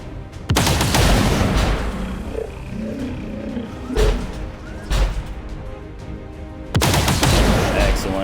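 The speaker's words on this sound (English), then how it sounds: "let's see if the first pistol shot" Pistol shots in a video game: a loud sharp blast opens, a few quieter pops follow in the middle, then a second heavy blast near the end, with no talking.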